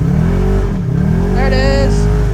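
A UTV's engine drones loud and steady while it tows another UTV out in two-wheel drive on a trail ride, then a rising rev swells near the end, with a voice talking over it.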